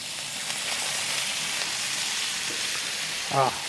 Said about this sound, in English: Put a little more oil down over here. Let's check that one out. Oh, that's a good sear.